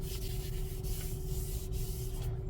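A cloth with cleaner rubs over the matte carbon fiber center console of a Tesla Model Y/3 in a steady close swishing wipe, continuous and moderately quiet, with no speech.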